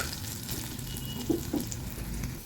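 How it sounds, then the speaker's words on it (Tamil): Lightly crushed garlic cloves frying in a pan until red and crisp, giving a steady, moderate sizzle with a couple of faint stirring scrapes midway and no speech. "பூண்டு இந்த மாதிரி நல்லா சிவக்க வறுத்துறணும்"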